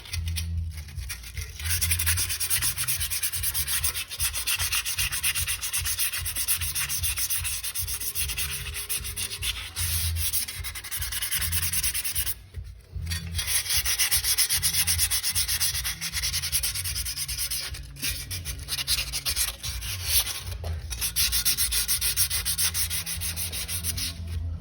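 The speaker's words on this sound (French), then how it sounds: "Donc on poursuit avec le ponçage du disque pour enlever cette matière" A rear brake disc from a Mercedes V-Class is scrubbed with a worn roll of 80-grit emery cloth, a continuous close rasping rub in rhythmic back-and-forth strokes with a few brief pauses, no talking.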